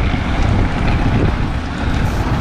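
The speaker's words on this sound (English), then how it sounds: "very maalog boat ride" Small boat pounding across a choppy sea near Camotes Island, a dense, steady roar of engine, water and heavy wind buffeting against a close action camera, with no speech.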